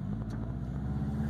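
A 2005 Subaru WRX on a test drive gives off a steady low engine drone and road rumble from inside the car, with no voices.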